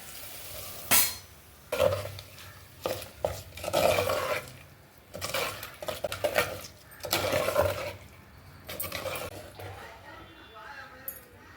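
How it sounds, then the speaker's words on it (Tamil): A spoon scrapes and clatters in a pan, stirring a fried onion tempering into mashed sorrel-leaf spinach kadayal. The knocks come in irregular bursts close by, with some talk in between. "தாளிப்பு கடையில் சேர்த்துடலாங்க."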